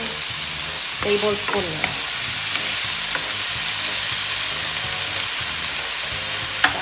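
Soy sauce hits a bitter gourd sauté in a hot pan, setting off a continuous close sizzle with occasional stirring clinks and scrapes; a voice speaks briefly over the frying.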